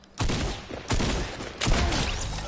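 Three loud, close shotgun blasts in a video game, fired at a steady interval less than a second apart, each a broad crack with a short rumbling tail, with no talking over them.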